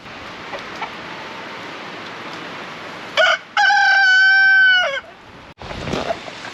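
A rooster crows loudly and close by, with chickens clucking around it against a steady outdoor background on a remote Alaskan island garden.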